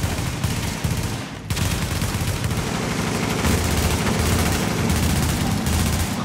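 Dense, rapid gunfire from The Division, a video game, crackles almost continuously in loud overlapping bursts, with a brief dip before resuming at full intensity.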